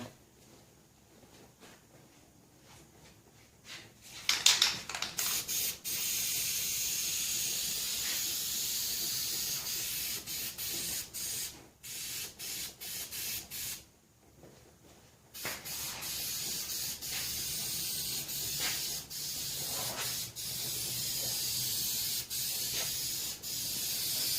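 Iron Armor truck bed liner sprayed in light coats onto a Geo Tracker hood, a steady close hiss that starts and stops in bursts with short pauses between passes.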